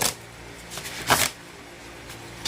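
A deck of tarot cards being shuffled in a few short, papery bursts, with one louder riffle in the middle, close up and otherwise quiet.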